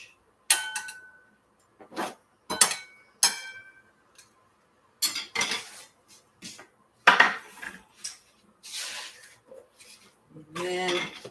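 Food for polenta with black beans being placed into a dish, heard as a series of separate clinks and light clatters spaced a second or so apart, close and fairly quiet against near silence.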